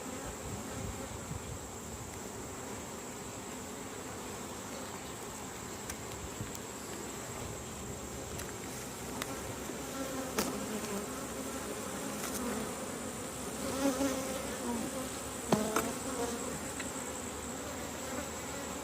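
Honeybees hum around an open hive in late summer, a constant, close swarm drone that holds steady throughout with occasional louder passes of single bees.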